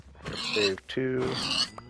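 A Minecraft pig gives two drawn-out, close grunts in quick succession, each a nasal, wavering oink separated by a short pause.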